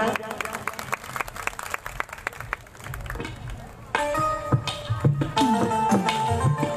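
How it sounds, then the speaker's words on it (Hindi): An audience at a Hindu Bhagwat Katha gathering claps in a quick, dense patter for a few seconds, then the clapping gives way to loud devotional music and voices. "जोरदार ताली बजाएं।"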